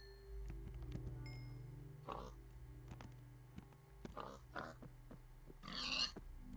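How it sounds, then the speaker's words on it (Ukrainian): A pig in the Minecraft video game is struck with an emerald weapon, giving a few short grunting hits and squeals with clicks in between, the loudest burst near the end. "з нальота атакую свиню, і воно її б'є тільки з двох разів"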